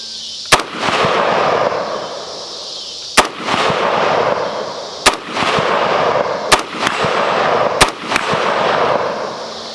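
Spanish CETME LC rifle fired outdoors, six sharp, loud cracks spaced a second or two apart, each followed by a short rolling echo.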